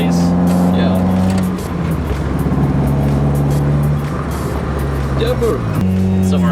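Mazda Miata driving on the road for the first time in months, its engine droning steadily and shifting pitch as gears change, with people chatting inside the car over the running motor.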